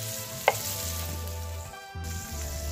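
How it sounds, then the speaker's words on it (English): Bacon and cubed ham fry in a pan with a little oil, giving a steady close sizzle broken by a single utensil tap and a brief dip before the hiss resumes. "we're rendering out some fat from the bacon and maybe a little bit from the ham"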